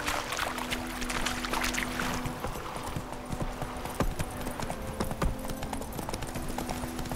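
Horse hooves clip-clop in a steady galloping rhythm in The Witcher 3, close and clear, with occasional creaks and ambient game sounds underneath.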